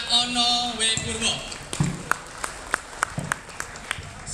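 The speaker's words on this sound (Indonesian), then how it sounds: "Tepuk tangan untuk Pak Ono W. Purwo" Scattered applause from a conference audience at the IDSECCONF 2012 security talk, tailing into a few separate, distinct claps after a voice fades out at the start.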